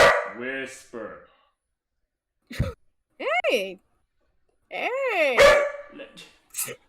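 A dog barks and yelps at a robot vacuum indoors, several sharp, close barks in separate bursts with quiet gaps between them, and a person briefly speaks among them.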